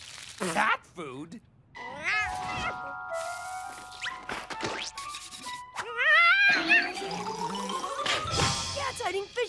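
A cartoon cat yowls, meows and gurgles in warbling, wailing bursts mixed with other cartoon sound effects, with speech from other characters between the cries.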